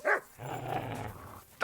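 A dog in the Kingdom Come Deliverance 2 video game gives two short, sharp barks that frame a low growl between them, near and fairly loud.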